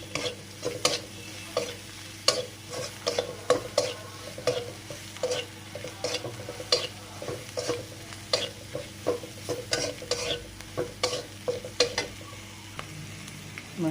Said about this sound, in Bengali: সব মশলাগুলো দিয়ে এবার ভেজে নিচ্ছি